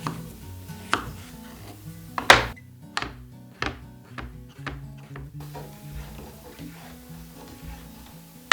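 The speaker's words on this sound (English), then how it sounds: "Next, you're going to want to cut it lengthwise again." A knife slicing food lengthwise on a cutting board for a Greek pasta salad: about a dozen sharp, close chops in an uneven rhythm, with a faint background hum.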